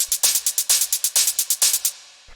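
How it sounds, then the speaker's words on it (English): Crisp layered techno hi-hats tick in a fast, steady pattern, bright and close, ending in a brief tail and one final tick. "these hi-hats, which sound like this"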